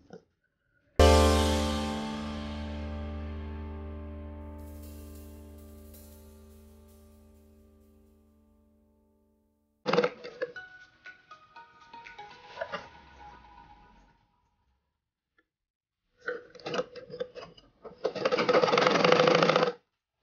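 A sewing machine stitches an umbrella frock in short separate runs after a ringing metallic tone at the start, its close, rapid mechanical whirring rising and stopping several times in a quiet room.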